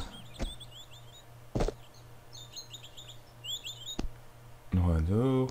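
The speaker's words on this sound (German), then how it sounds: "Ja, dieses Vögelgezwitscher." Birds chirp in the Venice level of the video game Tomb Raider 2, short repeated tweets in small bursts against a steady low hum, broken by a few sharp knocks and followed by a voice speaking.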